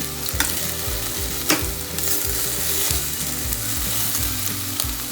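Meat frying in a pan sizzles steadily up close while a utensil stirs it, with a rhythmic run of scraping and knocking strokes and a sharper clack partway through, no talking.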